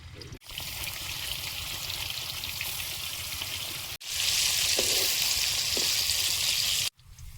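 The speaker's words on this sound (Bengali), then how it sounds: "কড়াইতে তেল দিয়ে দেবো। পনিরগুলো ভেজে নেব।" Paneer cubes, rubbed only with salt, fry in oil in a kadai with a steady, close sizzling hiss that runs without letup, broken only by two brief gaps.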